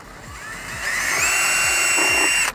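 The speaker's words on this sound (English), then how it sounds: "let's go ahead and continue on and get these holes drilled" A power drill bores holes through the plastic dash panel of a 2022-or-later Toyota Tundra, its motor whining up and holding a steady high pitch for a couple of seconds before stopping, loud and close with no talk.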